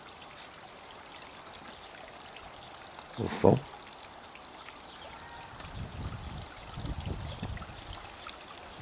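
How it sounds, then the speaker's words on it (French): A small waterfall in a garden in Châteauroux gives a steady, soft rush of flowing water from start to end, with a person speaking over it. "on voit là une petite cascade"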